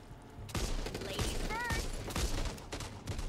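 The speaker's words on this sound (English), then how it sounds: "Shotgun. That is an AA-12, Holly." An AA-12 automatic shotgun in the Back 4 Blood zombie shooter fires several sharp, fast blasts in quick bursts, close and loud, with a voice talking between the shots.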